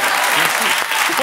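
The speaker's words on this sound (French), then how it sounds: "Ça peut s'applaudir." Studio audience on a French television talk show breaks into dense, steady applause, loud and close, filling the moment without pause.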